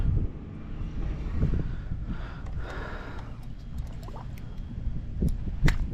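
Strong wind buffets the microphone at a fishing spot, a continuous rough low rumble with gusty swells throughout.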